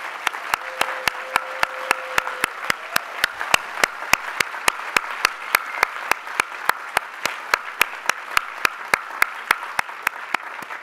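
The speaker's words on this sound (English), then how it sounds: "Let's give them our warmest round of applause." A convocation ceremony audience applauds warmly and continuously for about eleven seconds, with a few sharp, louder claps standing out against the steady wash of clapping.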